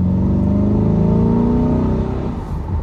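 A C8 Corvette with a dual-clutch transmission revs on a break-in drive: a loud, close engine tone climbs steadily for about two seconds, then eases off. No one speaks.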